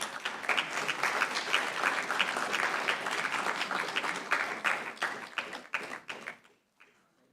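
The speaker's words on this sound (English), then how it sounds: "round of applause, please." A conference audience at an international urbanization event bursts into dense, lively applause that carries on for several seconds, then thins to a few scattered claps and fades into near silence.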